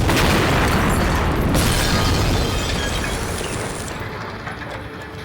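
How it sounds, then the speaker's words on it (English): An SC-50 bomb blast in a recreated Blitz street, a loud sustained roar of explosion and debris that fills the clip and slowly fades. "Our first bomb was an SC-50, which punched a huge hole in the wall."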